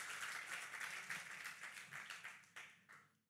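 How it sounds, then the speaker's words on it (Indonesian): A church congregation claps together in praise, a faint, fairly distant wash of applause with steady rapid clapping that tapers into a few scattered claps at the end. "Tepuk tangan kemuliaan buat Tuhan kita."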